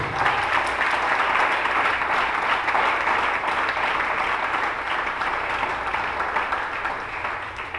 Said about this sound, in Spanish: denle un fuerte aplauso a Dios, por favor.